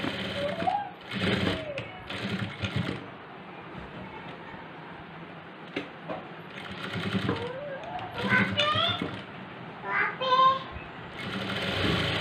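A sewing machine double-stitching a churidar, running in short mechanical bursts of rapid stitching separated by pauses, with a voice talking between and over the runs and a voice briefly in the background.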